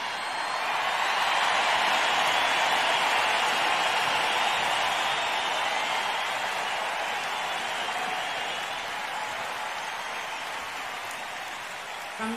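Sustained loud applause from a large concert audience at Wembley during a 2000 show, a steady dense clapping wash that swells early and tapers slightly near the end.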